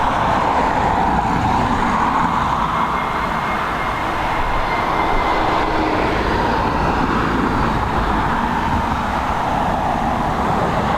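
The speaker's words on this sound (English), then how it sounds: "this 321neo about to touch down into Dublin" An Airbus A321neo touching down at Dublin Airport in high winds gives a loud, continuous broadband roar of engine and wind noise that holds steady throughout, with no voices.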